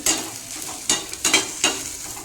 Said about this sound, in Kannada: ಈಗ ಇದು ಬೆಳ್ಳುಳ್ಳಿ ಎಲ್ಲ ಇದರಲ್ಲಿ ಸ್ವಲ್ಪ ಫ್ರೈ ಆಗಲಿ.